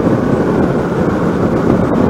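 Steady broadband wind roar with a low engine drone from a 2021 Kawasaki Ninja 650 motorcycle cruising at 70 mph in sixth gear around 5,500 rpm, loud and continuous with no talk.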